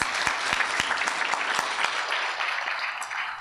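An audience at an Ontario investor showcase gives a warm round of applause, dense continuous clapping with a few sharper individual claps standing out, steady and then tapering slightly.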